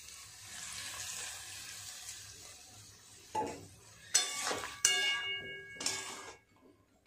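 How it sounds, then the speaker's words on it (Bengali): A little water is poured into a pan of small fish and vegetables cooking on the stove, heard as quiet splashing and brief bursts of sizzle against a faint kitchen background. "দিয়ে দেবো জল। খুব বেশি জল দেব না,"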